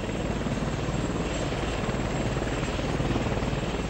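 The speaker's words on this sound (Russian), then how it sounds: "Як-24 стал первым в Советском Союзе двухвинтовым вертолетом продольной схемы." Yak-24 tandem-rotor Soviet helicopter: a loud, steady, dense roar of rotors and engine that fills the whole stretch without letup, with no voices.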